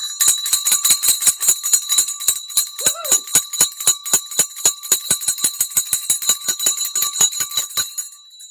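Stock market closing bell ringing in a long, rapid series of loud, evenly spaced metallic strikes that ring out for about eight seconds, then stop abruptly with a short decay.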